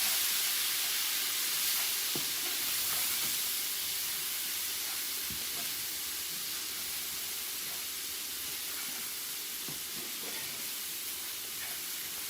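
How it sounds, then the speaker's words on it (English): Onions sauteing in a pan over medium heat give a steady soft hiss with faint scattered pops and crackles. The sound runs unbroken and fairly quiet, with no voices. "I'm going to saute those up. Again, I have this on medium heat."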